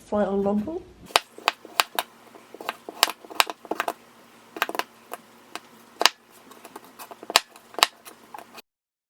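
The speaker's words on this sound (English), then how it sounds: "So I'm gonna go ahead and chop these up into 1-inch-ish" A knife chops peeled potatoes into slices on a cutting board, giving irregular sharp, crisp knocks up close, after a brief voice at the start.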